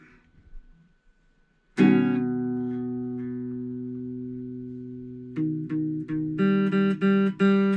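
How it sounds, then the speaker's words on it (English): After a faint opening, a loud sustained guitar chord rings out and slowly fades, followed by several short, choppy strummed chords. "A really, really loud chord there."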